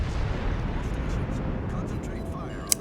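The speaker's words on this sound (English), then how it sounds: "I noticed the Yamato has just fired, so I do take a few salvos at him" Battleship guns boom in a dense, rumbling low roar during a World of Warships naval battle, with a faint sharp pop near the end.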